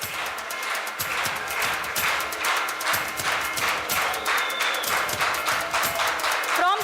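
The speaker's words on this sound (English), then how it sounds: "Let's have a round of applause for Professor Rekha Katarmal." Round of applause from an audience at a college annual prize distribution ceremony for a professor, steady clapping with rhythmic beats running the whole time, with some voices mixed in.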